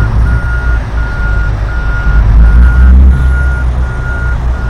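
Simulated heavy truck in Truckers of Europe 3, a deep steady engine rumble under a regular series of evenly spaced high reversing beeps, loud and close with no talk.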